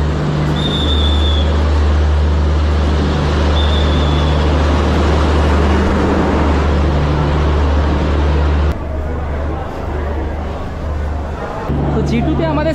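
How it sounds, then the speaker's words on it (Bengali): Shalimar–Puri Garib Rath Express backing slowly into a station platform, loud continuous rail rumble and clatter under a busy crowd babble, with a few short horn-like tones and a brief lull near the end. "দেখুন ব্যাকে কিন্তু আসছে শালিমার পুরী গরিবরথ এক্সপ্রেস।"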